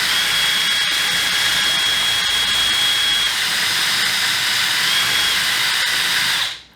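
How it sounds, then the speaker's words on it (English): Power drill running in reverse to degas homemade wine, a loud steady high-pitched whir with a faint hiss of CO2 bubbles, cutting off at the end. "I reversed the drill and it doesn't perform the same"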